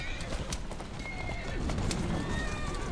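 Horse hooves clip-clop steadily in Assassin's Creed Syndicate, with whinnies and busy game background noise throughout.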